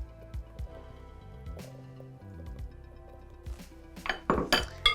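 Blueberries tumble into cake batter in a mixing bowl with soft squishy plops and light clinks of utensil against the bowl, closest and busiest at the end.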